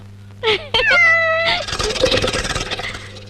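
A cat meows a few times in quick succession, close and fairly loud, then a burst of rough, noisy clatter takes over.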